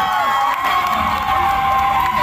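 A dense crowd at the grand final of a regional ambassador pageant at a lake festival cheers loudly and continuously, dominated by high-pitched girls' screams, with no pauses across the clip.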